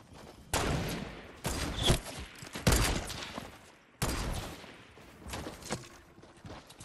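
Gunfire crackles in a shooter video game during a squads sniper shootout, several loud, sharp bursts separated by short gaps, close and alone without talk.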